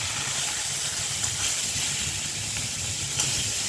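Bottle gourd greens, boiled beforehand, frying in a pan with browned chopped onion and garlic, giving a steady, close hiss and sizzle throughout without pause.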